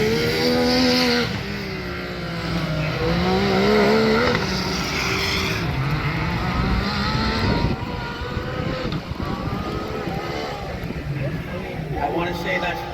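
UTV short course off-road race cars, including a Can-Am X3, race on a Valley Tire Off-Road Series track, their engines roaring loudly and continuously with rising and falling revs under steady commentary.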